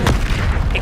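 A Confringo blasting curse goes off in the Hogwarts Legacy video game with a short, loud, booming burst, heavy in the low end, along with brief crackling bits of game effects.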